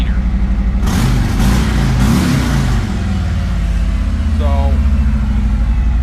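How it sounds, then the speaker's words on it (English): Harley-Davidson Road Glide with a quiet stock exhaust, its engine loud and close, revving sharply in a few quick blips then dropping back to a steady, lumpy idle. "it sounds like a wee little baby Harley"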